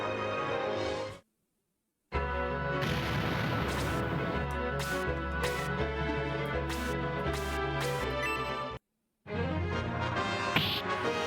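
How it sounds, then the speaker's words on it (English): Explosions from the Sega CD tactical RPG Shining Force CD: dense, rumbling blasts with sharp repeated hits over game music, framed by brief silences at the start and end. "Explosion is the kaboom"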